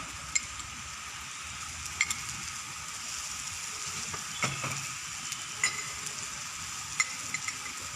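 Ginger and onion frying and sizzling in a pan with garlic, a steady close hiss with occasional clicks and scrapes of stirring, no voices.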